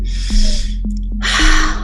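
A person breathes out with an audible breathy "ha" during a stress-management breathing exercise, two airy exhalations close to the microphone over a steady low hum.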